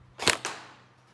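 A G36C gel blaster toy gun fires a single sharp, loud snap at close range, followed by a second, softer crack and a short fading tail; no talking.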